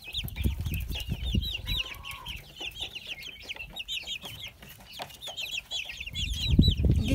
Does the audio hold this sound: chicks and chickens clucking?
yes